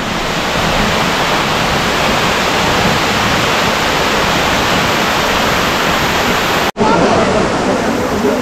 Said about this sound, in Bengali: এই সিঁড়ি দিয়ে নামছি আর একদম সিঁড়ির পাশ দিয়েই ফলসটা বইছে